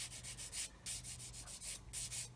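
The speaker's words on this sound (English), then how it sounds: "I've got the sanding stick on an angle now so that I don't touch that." A sanding stick rubs back and forth on a plastic part of a 1/35 scale Meng 9K37M1 Buk model kit, giving about nine short, close, raspy strokes in a steady rhythm with no talk.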